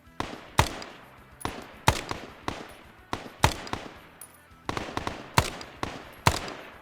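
AR-15 rifle fire in a Vietnam shooter game: a steady series of sharp, loud single shots, roughly a dozen spaced under a second apart, echoing slightly, with no talking.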